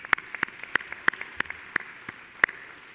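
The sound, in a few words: graduates' applause at commencement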